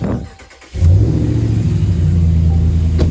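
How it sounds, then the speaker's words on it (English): A car engine cranks and fires up, then settles into a steady, loud idle rumble close by. "Once you've checked all those things, start the vehicle up."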